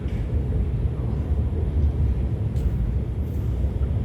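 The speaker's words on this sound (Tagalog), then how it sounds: "Ayan, yung MRT yung train" An MRT train passes nearby as someone walks along a hot city street, producing a steady broadband rumble and roar that holds at an even level throughout, with no clear talking over it.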